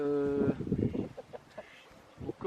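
Chickens and roosters clucking in an aviary, a close, busy burst of overlapping calls at first, thinning into scattered single clucks and a few sharper calls toward the end.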